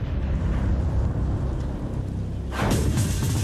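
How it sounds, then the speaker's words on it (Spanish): Explosion welding blast set off more than 800 metres underground, a deep continuous rumbling roar that swells into a louder, brighter burst partway through and keeps booming. "Se denomina soldadura por explosión."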